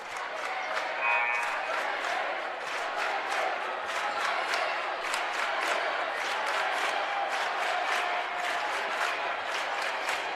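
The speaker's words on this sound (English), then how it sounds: "This Winfield crowd, pretty electric." Basketball crowd at a Winfield boys district game against Notre Dame, a steady dense roar of cheering and clapping with shouts throughout, loud and continuous.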